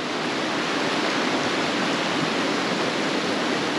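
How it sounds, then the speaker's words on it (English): A brook flows in Yellowstone National Park, giving a loud, steady, broadband rush of running water that stays even throughout and has no voices. "Thought I'd take a little walk down by this brook here"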